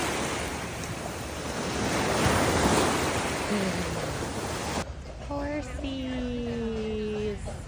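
Pacific Ocean waves breaking along a West Coast beach near Stanley Park make a loud, steady wash of surf and wind noise, and tonal whistle-like sounds appear briefly in the final seconds.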